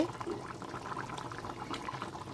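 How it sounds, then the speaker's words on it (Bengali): Mutton curry bubbling in a pot after water is added, a steady low simmering burble with soft liquid gurgles, faint and continuous. "মাটনটায় জল দিয়েছি, জল দেওয়ার পরে ফুটছে"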